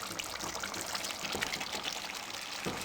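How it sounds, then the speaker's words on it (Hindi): Fried cabbage tumbles into a pot of vegetable biryani with a steady, close, dense rustling hiss that keeps going without a break and with no voices over it. "अब फ्राई की हुई बंद गोभी इसमें हम डाल देंगे।"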